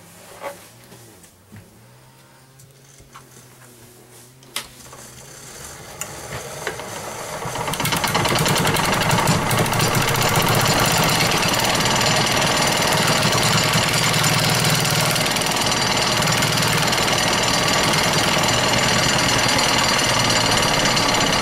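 Wood lathe starting up and spinning a myrtle wood bowl blank on a live center, the motor rising after a few seconds into a loud, steady, rough roar with mechanical rattle that holds to the end.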